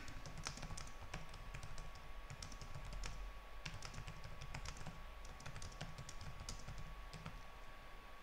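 Faint, close keystrokes tap on a computer keyboard in an uneven, continuous patter over a low background hum and a steady faint tone.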